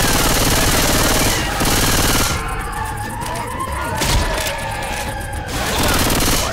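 Sustained automatic gunfire in Left 4 Dead 2, a dense, loud, rapid rattle that dips briefly and then resumes, with a few sharper cracks in the middle.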